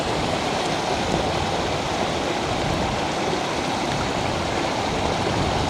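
Running water of a trout stream where fish are jumping and feeding, a steady, loud, close rush that fills the whole stretch without pause and has no voices over it.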